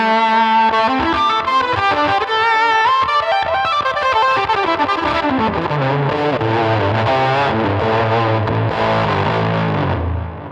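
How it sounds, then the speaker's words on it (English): Line 6 POD Go guitar distortion, saturation pushed hard like an overdrive pedal before the amp, with chorus-like modulation; a dense, sustained, loud distorted chord passage that runs unbroken and alone for the whole stretch. "And getting a very unique distortion out of it, which we can actually shape using the texture control."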